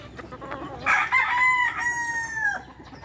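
A rooster crows loud and close among backyard chickens raised for eating in a rural province, with hens clucking softly around the single drawn-out crow.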